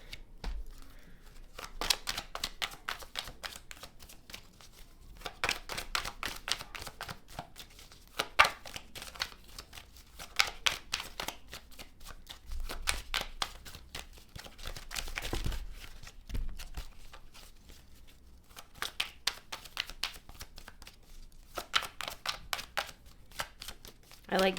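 Rapid papery riffling and flicking of tarot cards being shuffled, in repeated bursts of dense crisp clicks separated by short pauses, close and fairly quiet, with occasional soft taps as cards are drawn.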